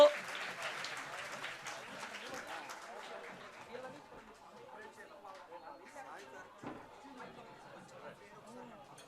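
An audience claps at a state-level awards ceremony for 10th class students. The applause is fairly strong at first, then thins out beneath a voice speaking over a microphone.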